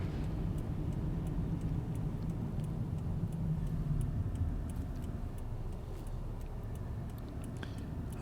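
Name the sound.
car driving slowly through town after a snowstorm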